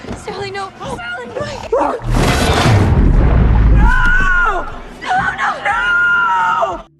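A woman screams hysterically in a horror film, a loud sustained cry lasting about two seconds that rises over a deep rumble, with other shouting voices before and after it.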